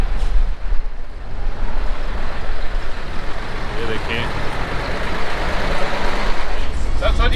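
Trucks and traffic rolling along the Karakoram Highway on a mountain route toward Astore: a steady, loud rumble of engines and road noise with a brief tonal beep near the end, and someone talking over it.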